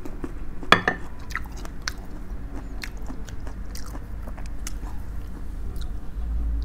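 Close, crisp bites and chewing of a large mango served with sweet fish sauce. A sharp crunch comes early, followed by steady moist crunching and mastication over a low background hum. No talking.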